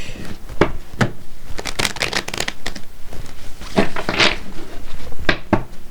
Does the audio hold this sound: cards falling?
yes